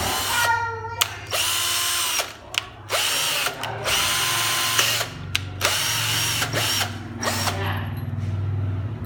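A Hitachi cordless drill bores into very hard wood in a series of loud, close whirring bursts. The motor stops and restarts several times, with short pauses between runs.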